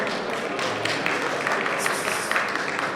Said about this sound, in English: I want to give a big applause to all this wonderful panel to welcome them all.